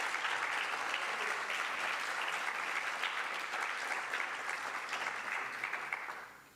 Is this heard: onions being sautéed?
no